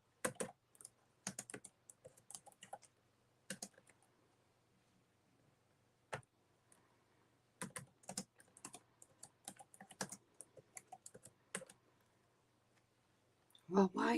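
Fingers type on a computer keyboard in quick clattering runs of clicks separated by brief pauses, close and crisp, with a person speaking at times.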